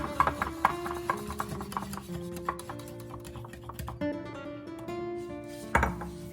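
A spoon or whisk clinks and scrapes in a bowl of condensed milk and fresh cream in an irregular run of close taps and rubs, with soft music playing steadily underneath.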